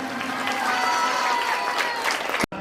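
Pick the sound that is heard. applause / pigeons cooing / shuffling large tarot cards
applause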